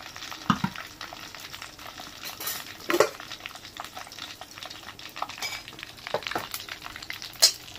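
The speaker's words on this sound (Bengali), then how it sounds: "এবার আবার যে চিকেন গুলো আছে পরপর ভেজে নি।" Chicken pieces for restaurant-style dry chilli chicken fry in a wok, giving a soft, steady crackle broken by several sharp scrapes and clinks of a stirring utensil against the metal.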